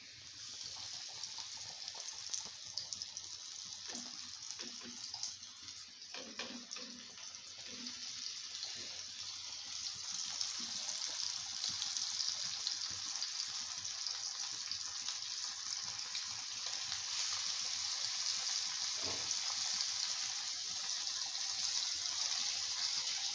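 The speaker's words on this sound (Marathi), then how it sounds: "कालवण जोपर्यंत उकळतं तोपर्यंत आपण जी फ्राय करायची तयारी करून घेतली मच्छी तव्यावर टाकून घेऊया" Surmai and bombil fish coated in semolina fry on a tawa, giving a soft, continuous sizzle that stays fairly faint and even, with a few quiet clicks early on.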